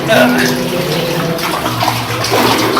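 Splashing and sloshing of someone wading through knee-deep water inside an abandoned silver mine tunnel in San Gabriel Canyon, close and loud, with a person talking over the churning water.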